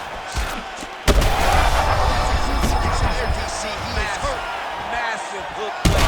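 A heavy punch lands in a UFC 5 fight between Chimaev and Strickland, a sharp slam at about one second and another near the end, over steady arena crowd noise while a commentator talks.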